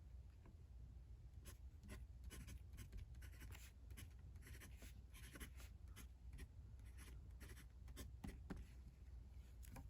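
A steel-nibbed fountain pen, a Ranga Abhimanyu, scratches across paper in close, faint strokes, a quick irregular rhythm of small rasping scrapes with brief pauses between words.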